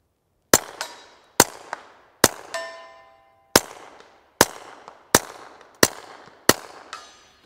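Suppressed subsonic gunshots from a Smith & Wesson Victory pistol fitted with a Gemtech Mist suppressor, eight sharp, evenly spaced cracks, each followed by a metallic ring and a short clank, close and clear with no talking.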